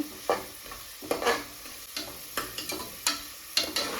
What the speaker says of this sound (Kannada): ಇಲ್ಲಿ ಈರುಳ್ಳಿನ ನಾವು ಚೆನ್ನಾಗಿ ಕಲರ್ ಚೇಂಜ್ ಆಗೋವರೆಗೂ ಚೆನ್ನಾಗಿ ಫ್ರೈ ಮಾಡ್ಕೋಬೇಕು